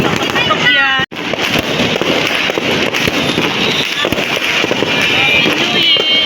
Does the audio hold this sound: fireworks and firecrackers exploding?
yes